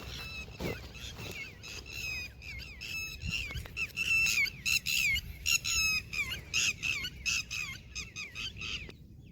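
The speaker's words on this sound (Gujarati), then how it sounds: "પક્ષીઓનો કલકલાટ" Birds call repeatedly near a rural Gujarati farm, loud squawking and honking cries in quick bursts over a low background rumble.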